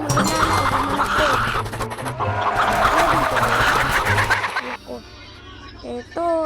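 Black chicken in a video game clucks in short repeated bursts over busy game sound and lively talk, ending with a few sharper clucks once the background drops out.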